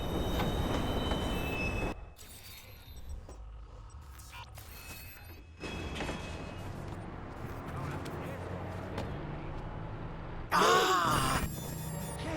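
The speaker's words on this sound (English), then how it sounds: "Northbound train arriving shortly." A train pulls into a station with a low rolling rumble and sharp squealing bursts, while a voice speaks over it.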